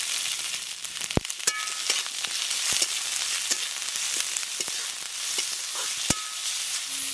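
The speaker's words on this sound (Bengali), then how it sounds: "চাপা দিয়ে বাঁধাকপিটা হালকা করে সেদ্ধ করে নেব।" Chopped cabbage frying in sunflower oil in a pan for village-style prawn chow mein, a steady close sizzle with occasional sharper crackles and stirring clicks, no talking.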